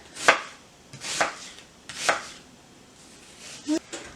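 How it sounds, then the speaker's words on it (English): A knife slices through an onion in a kitchen, producing three or four distinct cutting strokes about a second apart, close and fairly crisp, followed by a small clatter at the end. "For the remaining of the onion, that looks kind of bad, so I'm just gonna do it like this. Just slice it."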